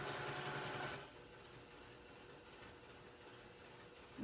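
A sewing machine runs a regular straight stitch in a quick, close burst for about a second, then stops, leaving only faint room hum.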